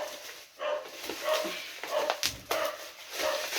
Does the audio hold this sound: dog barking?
yes